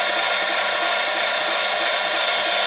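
A Powerwise 9090NGBE ink pump motor runs steadily as its rollers turn to prime the hose, giving an even, loud airy whir with a bright hiss that holds constant throughout.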